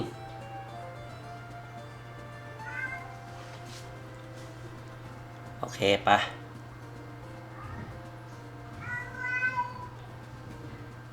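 A cat meows a few times in a Thai Roblox Pokemon Brick Bronze game session, short harmonic calls heard under a steady background hum while someone talks.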